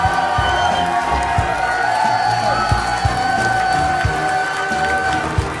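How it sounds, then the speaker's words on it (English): Crowd at a Clash Royale tournament cheering and applauding a newly crowned champion, a steady dense roar of claps and whoops with occasional sharper shouts, sustained throughout with some voices mixed in. "can I get a round of applause for your champion?"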